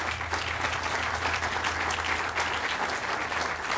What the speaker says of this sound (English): you give them a big round of applause